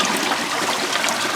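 Water flushing down through an opening in mud, a loud, steady rushing gush that continues without break.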